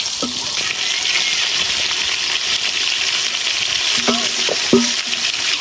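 Meat sautéing in oil gives a loud, continuous close sizzle, broken by several clinks and scrapes of a utensil stirring against the pan, with no talking.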